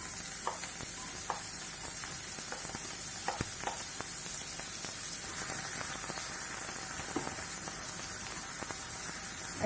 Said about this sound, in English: To the hot oil, the onions go in first.